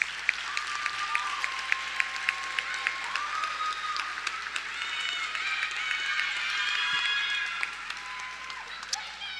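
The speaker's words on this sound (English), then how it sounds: "Give yourself a big round of applause." Graduates and guests at a graduation ceremony clap in a sustained round of applause, with scattered sharp individual claps over a steady background and some chatter and a faint tonal hum beneath.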